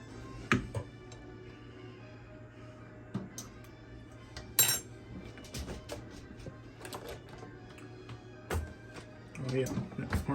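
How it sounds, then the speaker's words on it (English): Parmesan cheese is stirred into a pot of Dungeness crab soup, with a spoon scraping and clinking against the pot in scattered close taps under quiet background noise. "Get this cheese stirred in good."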